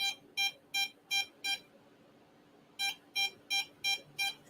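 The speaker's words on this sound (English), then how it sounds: "That's got to be the phone because it's going steady there." A phone beeps steadily in two runs of short regular electronic pulses, five then six, separated by a brief pause, fairly near and clear over quiet background.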